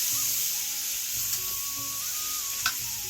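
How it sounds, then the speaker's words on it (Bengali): Pieces of stinging catfish fry with onions in oil while a spatula stirs them, a close, even sizzle broken by a few soft scraping strokes. "এখন ইয়ে সুন্দর হয়ে লাড়ি লমু,"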